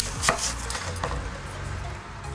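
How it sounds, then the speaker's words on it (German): Apples are sliced into rings on a board, with a couple of crisp knife cuts early, then a quieter cut amid low background noise. "dann schneiden wir die Äpfel in Ringe"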